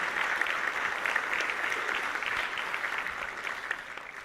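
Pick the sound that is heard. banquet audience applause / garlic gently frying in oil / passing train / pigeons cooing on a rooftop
banquet audience applause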